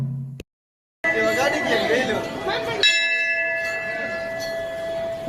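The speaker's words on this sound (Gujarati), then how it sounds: "જુઓ ઘંટડીનો અવાજ સાંભળો" A temple bell is struck repeatedly outside a Hindu temple, its bright ringing tones sustaining and overlapping, loud and close, with a murmur of voices and crowd chatter behind it.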